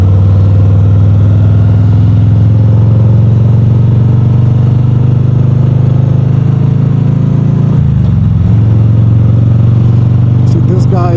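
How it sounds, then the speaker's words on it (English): A motorcycle cruises along a highway with a loud, steady engine drone and constant road and wind roar, briefly dipping in pitch near the end. "So here we are on the highway, right? Bike's moving smoothly."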